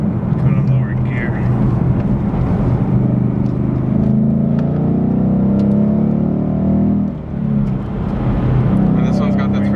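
A 2016 Ford Mustang GT Performance Pack with a 3.73 rear end revving in a low gear, a loud continuous engine drone that holds and shifts pitch, with a brief dip near the end.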